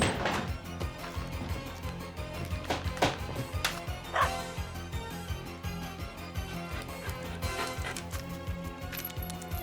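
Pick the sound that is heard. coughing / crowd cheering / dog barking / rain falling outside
dog barking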